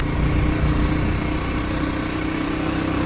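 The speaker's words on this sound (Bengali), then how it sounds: "বাইকের সাউন্ডে কান তবদা লেগে গেছিল।" A motorcycle engine on a rough hill road from Ruma Bazar to Boga Lake in Bandarban, Bangladesh, a loud steady drone with constant low rumble and no talking.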